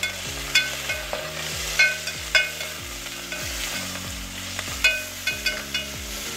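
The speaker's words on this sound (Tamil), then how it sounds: "இந்த ஆயில்லையே இந்த புதினா கொத்தமல்லி ஃப்ரை ஆகும்போது நமக்கு நல்ல ஒரு அரோமா கிடைக்கும்" Handfuls of mint and coriander frying in hot oil in a pot for mutton biryani, stirred with a spoon: steady sizzling with repeated scraping, clanking strokes in a loose rhythm, close and fairly loud, no talk.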